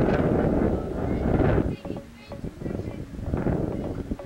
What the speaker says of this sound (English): Now, that wind's a bit angry, isn't it?